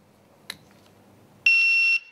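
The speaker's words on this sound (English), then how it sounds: "I start the timer, get my countdown." A CED7000PRO shot timer gives a faint click, a short pause, and then a loud, steady electronic beep of about half a second as its countdown start signal.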